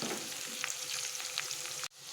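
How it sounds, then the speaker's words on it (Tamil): Bitter gourd pieces fry in groundnut oil, a steady close sizzle with occasional stirring scrapes, cutting off abruptly near the end. "நல்லா பாவக்காவை நம்ம எண்ணெயில் வணக்கிக்கணும்."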